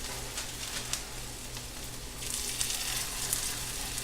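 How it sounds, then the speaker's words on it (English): Steady, crackling sizzle of oven-cooked cauliflower hash browns frying in hot oil, close up, growing a bit louder and brighter partway through, with no talking. "you want to hear that nice sizzle"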